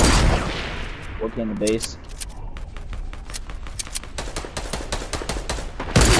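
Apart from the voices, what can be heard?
gunfire in a video game (likely Fortnite)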